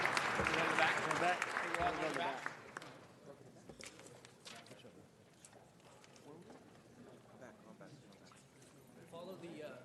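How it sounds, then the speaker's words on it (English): An audience at a city council meeting applauds with dense, loud clapping for a couple of seconds, then it fades out and people talk over murmuring room noise. "One more time, big round of applause for the Community Safety Partnership."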